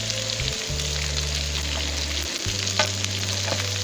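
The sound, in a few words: okra and meat frying in a pan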